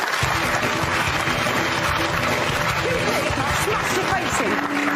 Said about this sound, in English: Angie's on the show. Give her a round of applause